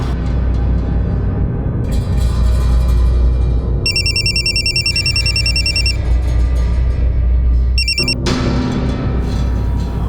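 A telephone rings in a tense drama scene, two bursts of bright electronic trilling over a steady low background rumble, the second burst shorter and followed by a louder noisy passage.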